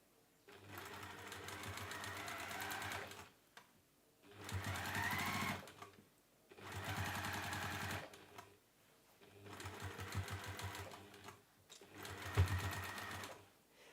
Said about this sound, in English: I'm going to top stitch around the top